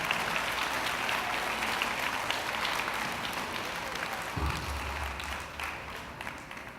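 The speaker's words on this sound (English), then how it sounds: "Can I get a good hand clap on that?" Audience hand clapping at an elementary school celebration, a steady wash of many hands filling the room, with a low hum entering near the end.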